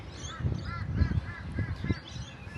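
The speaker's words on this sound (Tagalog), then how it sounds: "Ayun, uwak yun eh." Several crows give harsh caws outdoors in Australia, about five evenly spaced calls over roughly two seconds, mid-distance above a low rumbling background.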